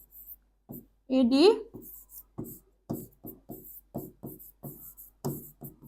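Pen strokes write answers by hand on paper in short scratchy bursts in a steady rhythm, close up, with a brief stretch of speech partway through.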